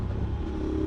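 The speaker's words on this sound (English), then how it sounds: "So the Delcovic exhaust, I think it sounds top tier at lower speeds and lower RPMs." A 2019 Suzuki V-Strom 650 V-twin motorcycle with a Delkevic aftermarket exhaust rumbles at low revs, a deep steady exhaust note heard close and loud throughout the short stretch.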